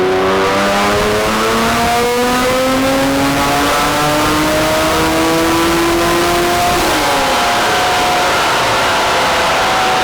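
A turbocharged Honda NSX revs loudly up through an acceleration pull, its engine note climbing steadily before a gear change drops it and the pull carries on, close and with no voices.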